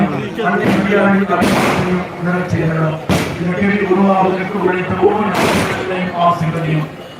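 Firecrackers go off at a Catholic church festival marking the opening of a grotto shrine to Our Lady of Good Health in a Tamil village parish: three sharp, loud bursts spaced a couple of seconds apart over a constant din of voices and amplified sound.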